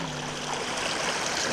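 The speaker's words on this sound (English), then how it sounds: "So now we're up here to the top of the one little creek." A small creek in Umpqua National Forest, flowing with a steady, close rushing and trickling sound of water and no talking.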